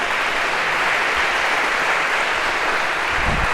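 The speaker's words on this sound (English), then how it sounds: "round of applause for our one brave volunteer here" Lecture hall audience at Harvard claps for a volunteer, a dense, steady roar of applause held loud and even throughout with no voices standing out.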